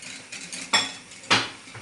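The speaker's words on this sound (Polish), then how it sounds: "Mleko już się gotuje, więc wlewamy budyń." Two sharp clattering bursts of pudding mix being poured into a pot of boiling milk, with light scraping and kitchen clatter around them, close by.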